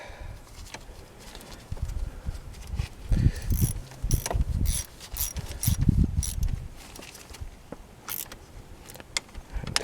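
A ratchet wrench tightens a connector on a car battery cable, clicking in quick bursts of close metallic ticks with short pauses and mechanical clunks between strokes.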